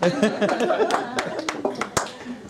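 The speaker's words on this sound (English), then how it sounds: "Thank you for the applause" Scattered clapping from a comedy show audience, with light laughter mixed in and voices over it, fairly soft and brief.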